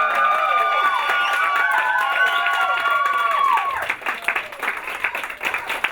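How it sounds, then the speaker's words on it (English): An audience at a live interview event at Ed Hardy Studios bursts into loud applause and cheering with whistles and shouts, then the clapping thins out and fades into scattered claps. "You guys, please, round of applause."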